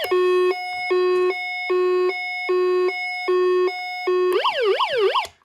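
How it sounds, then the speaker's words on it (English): The second siren of a 1990 Servco toy fire truck plays loud two-tone hi-lo beeps, six even alternating pulses close up, then abruptly switches to fast rising-falling wail sweeps before cutting off. "So we've got two different siren sounds this thing makes."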